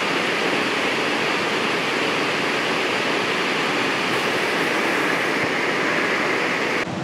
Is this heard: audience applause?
no